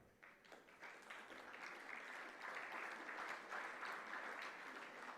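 An audience at a gala dinner breaks into applause that builds from scattered claps into steady clapping, held at a moderate, fairly distant level for several seconds.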